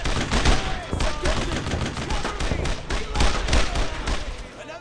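Dense, sustained gunfire from rifles and machine guns in the World War II shooter Brothers in Arms, loud rapid bursts and single shots layered continuously, with shouted voices mixed in.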